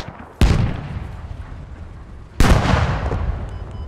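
Two heavy tank cannon blasts in the video game Squad, from a T72B3 tank on the Papanov map, each a sharp broadband crack followed by a long rumbling decay, roughly two seconds apart, with no talk over them.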